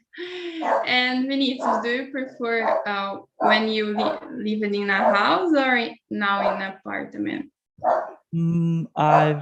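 A pet dog barks and yips intermittently indoors at home, mostly buried under a man's close conversational speech.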